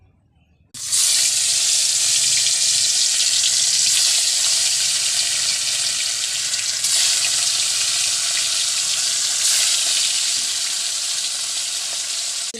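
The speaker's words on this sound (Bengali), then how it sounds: "তেল গরম হয়ে এসেছে, এবারে মাছগুলো ছেড়ে দিচ্ছি।" Pieces of rohu fish, rubbed with salt and turmeric, hit hot oil with a sudden loud burst of frying. A dense, continuous sizzle and spatter follows and stays strong to the end, with a few brief surges along the way.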